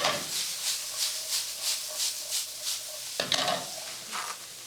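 Corn kernels warming through in a pan, giving a soft steady sizzle with gentle rhythmic stirring swells and one sharper clatter near the end, fairly quiet and with no talk.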